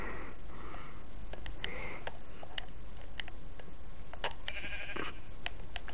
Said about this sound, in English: Go away, sheep.